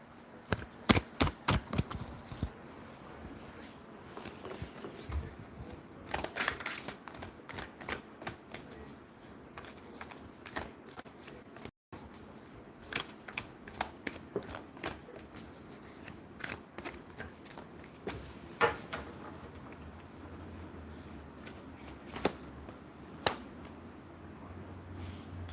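Tarot cards are shuffled by hand in repeated bursts of crisp riffling and flicking, fairly close and moderately loud, with brief pauses between rounds over about twenty-five seconds.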